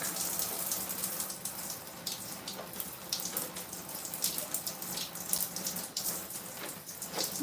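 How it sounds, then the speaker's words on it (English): Shower water streams and splashes steadily over hands being scrubbed in a shower, a close, continuous hiss with irregular spatters and drips and no talking. "Don't just let the water stream from the shower do all the work."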